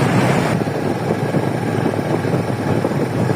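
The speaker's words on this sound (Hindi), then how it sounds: "बाइक में बिल्कुल आहिस्ता ही चला रहा हूँ ताकि कम से कम शोर हो" Steady, close engine drone and road rush from a motorcycle ridden slowly along the Srinagar Highway near Jinnah Square, Pakistan, continuing unbroken throughout with no voices.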